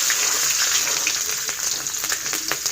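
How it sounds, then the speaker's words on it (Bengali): Five-spice seeds (panch phoron) and green chillies sizzle steadily in hot oil, a continuous bright crackle with scattered sharper pops, close and loud with no talking. "এবার আমি দিয়ে দেব 5 ফোড়ন, এরপর দিয়ে দেবো কাঁচা লঙ্কা"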